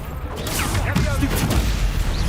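A Confringo fire spell blasts in the video game Hogwarts Legacy, a loud, dense burst of crackling, whooshing impact noise that rolls on for a couple of seconds amid other combat sounds.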